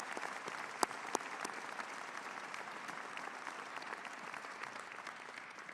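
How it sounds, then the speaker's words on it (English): Graduation ceremony audience applauding at a postgraduate commencement in Boston, a steady wash of many hands clapping throughout, moderately distant, with a couple of sharper claps standing out early on. "Please give them a warm round of applause."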